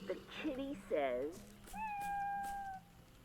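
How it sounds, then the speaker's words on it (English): A talking speak-and-say toy in the video game Neversong plays a cat's meow after a spoken prompt: short voiced toy chatter first, then one drawn-out, bright synthetic meow that sustains and fades. "The kitty says."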